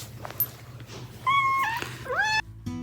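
A cat gives a short, rising meow, fairly close and clear, over a faint hum and low background noise, with no talking.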